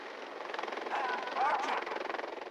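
A helicopter rising into the sky during a film stunt, its steady rhythmic rotor chop filling the sound at moderate loudness and swelling slightly midway, with no talk over it.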